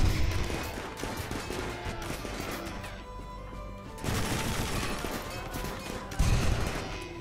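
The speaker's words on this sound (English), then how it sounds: "Just keep shooting with your 9mm pistol." Rapid pistol gunfire in a RimWorld battle, dense overlapping shots mixed with other weapons and crashes, loud and continuous with bursts swelling around the middle and near the end.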